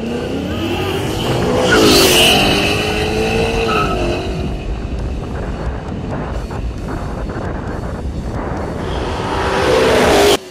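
A Ford Mustang and a Zero electric motorcycle drag racing at a racetrack, with a loud, close roar and engine revving that swells early, holds steady, then surges again near the end.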